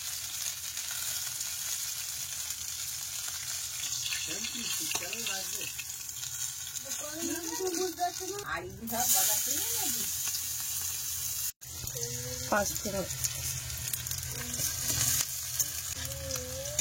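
Crushed garlic, chopped onion and five-spice sizzle steadily in hot oil, a continuous frying hiss with scraping stirs, while people talk intermittently nearby.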